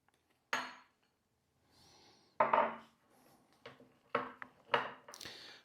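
A spoon stirs orange juice into a glaze in a bowl, giving scattered scraping strokes and light clinks against the bowl, close and separated by short pauses.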